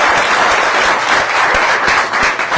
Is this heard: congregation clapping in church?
yes